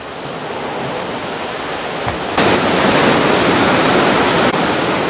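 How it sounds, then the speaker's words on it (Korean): Rushing water of a clear mountain valley stream at Daewonsa Valley on Jirisan, a steady broadband flow that swells louder partway through and continues close and alone. "계곡 물소리가 너무 좋은데요"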